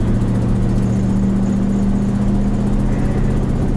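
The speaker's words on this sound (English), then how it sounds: "It still has that kind of sort of putt-putt-putt of the exhaust leak." A 1985 Chevy K10 pickup engine pulls on the road with an exhaust leak, a loud, steady low droning hum with constant rumble throughout, no talking.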